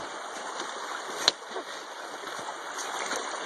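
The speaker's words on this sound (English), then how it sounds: "Time to cross Seneca Creek again." Steady broadband rush of Seneca Creek flowing as a trail runner crosses it during a West Virginia mountain 50K, with one brief splash or step about a third of the way through.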